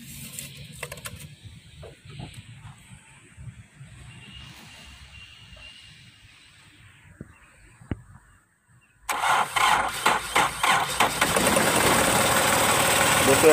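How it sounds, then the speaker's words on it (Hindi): Quiet shuffling and clicks give way to a 2004 Hyundai Accent diesel engine cranking and catching, then settling into a loud, steady, rattling idle. "स्टार्ट करना गाड़ी, आपको सुनवाते हैं इंजन की आवाज़ कैसी है।"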